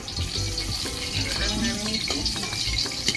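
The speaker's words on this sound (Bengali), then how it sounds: "আলুটা দেখো আমার ভাজা হয়ে গেছে লাল লাল করে।" Potatoes fry in oil in a pan, a steady bubbling sizzle with small scrapes and clinks, close and continuous.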